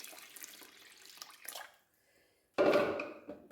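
A jug of water pours into a cooking pot for chicken haleem, splashing in a loud, full gush that starts abruptly after a brief quiet, following softer kitchen clatter and running-water sounds.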